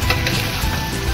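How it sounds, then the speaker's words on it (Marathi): Ambadi (gongura) leaves being sautéed in a hot pan, giving a steady close-up frying sizzle with light stirring scrapes for a short moment and no talk. "आता ही भाजी त्याच्यामध्ये टाकून परतून घेऊ।"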